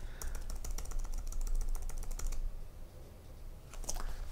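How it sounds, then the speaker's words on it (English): A word typed on a computer keyboard while working in Adobe Illustrator: a quick, close run of crisp keystrokes for about two seconds, a pause, then a short final burst of taps. "let's just type a word, track"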